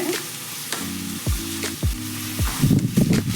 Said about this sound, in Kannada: ಈರುಳ್ಳಿ ಸ್ವಲ್ಪ ಫ್ರೈ ಆಗೋದು ಲೇಟೇ